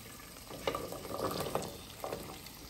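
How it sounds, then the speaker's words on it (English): Chopped onions frying in a pan for Chettinad chicken, a soft steady sizzle with a few stirring scrapes, faint and close, no talking. "so I'll add all these onions to it."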